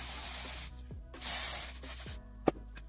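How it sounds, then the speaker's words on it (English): Dry shampoo hisses from an aerosol can onto the roots of a synthetic wig in several short close bursts separated by brief pauses, ending with a quick final puff. "I'm just gonna dry shampoo the mostly the rooty area and kind of towards the front"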